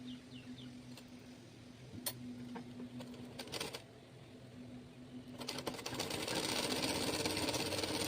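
A sewing machine stitches a blouse in steady runs, its motor hum and needle ticking interrupted by brief pauses, then growing louder and busier toward the end.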